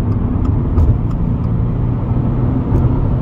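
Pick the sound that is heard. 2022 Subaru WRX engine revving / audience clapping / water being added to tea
2022 Subaru WRX engine revving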